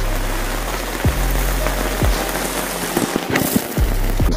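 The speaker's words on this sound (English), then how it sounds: "the rain has found us." Rain falls outdoors around a 100 Series Land Cruiser, a steady close patter of drops with sharper sporadic hits on a hard surface, fairly loud, with no talking.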